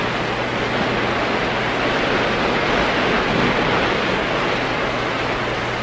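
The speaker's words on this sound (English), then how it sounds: "the rampaging river. Swift, crushing currents strain and pull at every foundation" A rampaging river with swift, crushing currents that strain at bridge foundations, a dense, steady roar of rushing water that holds loud and unbroken throughout, with no voices.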